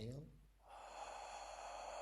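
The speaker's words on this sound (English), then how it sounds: "We're going to do what's called throat breathing." A constricted-throat inhale in a breathing exercise, a rushing airy breath drawn in steadily for about a second and a half after a brief voiced lead-in, close and fairly loud.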